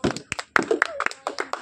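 Children clapping their hands during a vegetable-picking challenge game, a quick uneven run of sharp claps mixed with brief voices.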